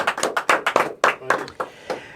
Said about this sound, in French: Je vous applaudis.